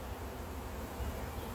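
Honeybees swarm around an open beehive during an inspection, giving a steady, dense buzzing hum that stays soft and even throughout without a break.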